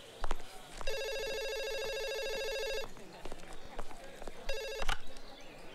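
A telephone rings in two bursts: a long electronic trill lasting about two seconds, a pause with faint background noise and movement, then a shorter burst of the same ring.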